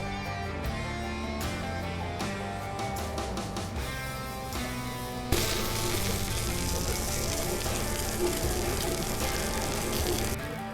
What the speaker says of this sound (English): So let's get to searing.